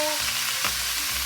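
Leafy greens (saag) frying in a pan for a village-style meal, a loud, continuous hiss and sizzle with a brief stirring scrape partway through, close up and without voices.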